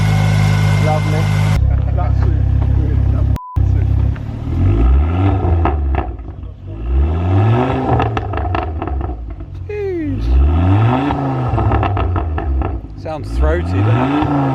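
A Ford Focus ST fitted with a Malian 3-inch downpipe exhaust runs at idle with a deep, steady drone, a few rising revs and faint turbo spool, while people talk over it close by.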